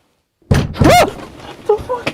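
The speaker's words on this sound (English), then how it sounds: "Someone trying to get in the van right now?" Loud thuds and a bang against the side of a parked van at night while camping, a short burst of heavy knocking followed by a frightened voice speaking close by.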